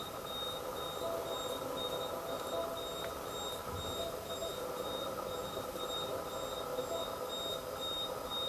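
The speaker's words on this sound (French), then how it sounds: "C'est ça l'alarme." An electronic alarm sounds inside a large abandoned hospital, repeating a thin high-pitched beep at a regular pace over a constant low background hum, moderately loud and with no one speaking.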